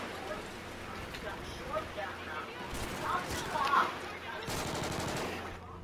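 Video game gunfire from Call of Duty: Ghosts crackles in rapid automatic bursts and scattered shots over continuous in-game battle noise, mid-distance and dense, with a voice talking over the action.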